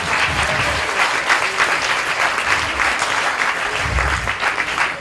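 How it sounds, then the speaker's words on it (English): Audience applause at a devotee leadership conference in Mayapur, a steady dense clapping from a large crowd filling the whole stretch at even loudness. "I think that deserved an applause for Bhakti Chaitanya."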